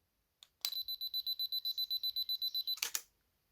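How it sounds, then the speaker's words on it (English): A rapid series of camera shutter clicks from a Canon camera triggered by a BR-E1 remote, in a quick regular burst, paired with a steady high electronic tone, close and crisp in a quiet room. "let's just try pushing the shutter button"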